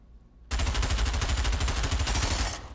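A submachine gun fires one rapid sustained burst in the virtual reality shooter Pavlov VR, loud and close, the rattling shots evenly spaced for about two seconds before cutting off with a short tail.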